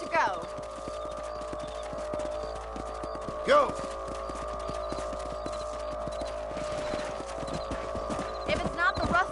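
Horse hooves clip-clop steadily in the Red Dead Redemption video game, with a neigh or two rising over the trotting, a voice calling out briefly, and soft game music and ambience underneath.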